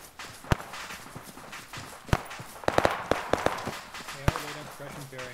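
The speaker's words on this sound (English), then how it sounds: "the ammo pit is cooking off up here" Ammunition cooking off in an ammo pit during a military exercise: scattered sharp pops and cracks, some in quick clusters, mid-distance under radio chatter and voices.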